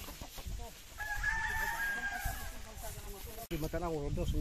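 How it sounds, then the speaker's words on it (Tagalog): Fighting roosters crow and hens cluck nearby on a farm, one long crow standing out amid scattered calls, with people talking in the background. "ganda na mga manok. Mga manok panabong"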